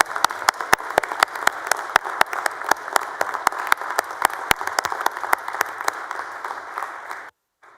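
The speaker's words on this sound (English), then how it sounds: "members, let's give them a big round of applause and welcome them to their Texas Senate" Applause in the Texas Senate chamber at the Capitol, a steady wash of many hands clapping with sharp individual claps standing out, loud and continuous for about seven seconds before cutting off abruptly.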